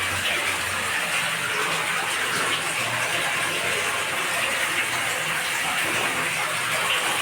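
Water pumped up from a side borewell gushes out in a steady, dense rush, loud and unbroken for the whole stretch, with no voices over it.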